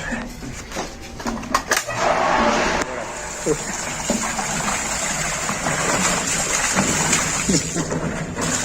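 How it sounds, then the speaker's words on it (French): An artificial waterfall pours into a warm swimming pool in La Paz, a steady close rush and gush of falling water with splashy bursts near the start, while people talk over it. "Ah, c'est une cascade."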